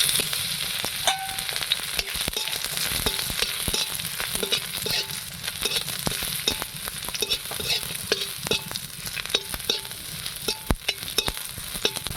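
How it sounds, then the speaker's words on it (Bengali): Five lightly crushed garlic cloves fry in hot oil, a dense continuous sizzle with frequent clinks and scrapes of a spatula stirring in the pan, close and steady throughout. "এখানে 5 কোয়া রসুন হালকা করে থেঁতো করে নিয়েছি"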